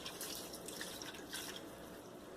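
Water from a cup pours into a meat and onion soup mix in a cooking pot, a soft, continuous trickling and splashing heard faintly, with no talking.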